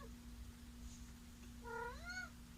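A single drawn-out cat meow rises and falls near the end, quiet against a low steady hum.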